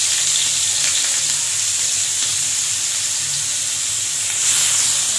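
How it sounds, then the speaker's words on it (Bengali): Chopped onions hit hot oil in a kadai with a loud, continuous sizzle and hiss that swells slightly near the end. Nobody talks. "তেলটা গরম হয়ে গেছে, এবার আমি দিয়ে দেবো কুচিয়ে রাখা পেঁয়াজগুলো।"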